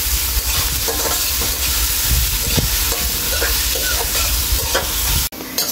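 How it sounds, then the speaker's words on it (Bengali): Half a cup of oil and chopped onions frying in a wok, giving a loud, dense, continuous sizzle with scattered spoon scrapes and clatters, close up and without voices, ending in a brief dropout. "পেঁয়াজ আমি কিছুক্ষণের মতো ভেজে নেব।"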